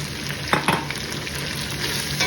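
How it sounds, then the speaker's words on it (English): Onions sizzling steadily in a hot pan for a Burmese chicken and long melon curry, with a couple of scraping stirs near the start and a continuous frying hiss throughout. "Give it a good stir."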